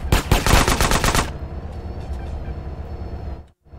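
A loud, rapid burst of automatic gunfire rattles for about a second in GTA San Andreas Definitive Edition, then gives way to quieter ambient game noise and a brief dropout.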